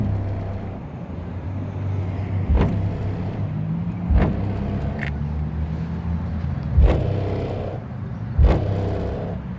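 A car's trunk rattles and bangs in time with bass from an aftermarket Kenwood audio system in a Mercury, giving several loud, sharp knocks over a steady low thump.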